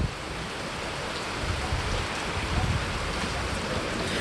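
Heavy rain pours steadily during a 2019 hurricane, a dense, constant wash of noise with low rumbling gusts, close and loud throughout with no voices.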